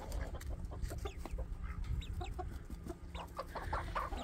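Backyard chickens cluck in short, scattered calls close by, with a rooster among the flock, set against a steady low farmyard rumble and no voices.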